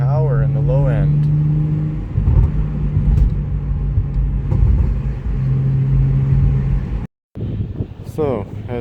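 Car engine with a patched exhaust, idling with a low steady rumble, then revving and settling, with a short dropout before it rises again; a person talks over parts of it.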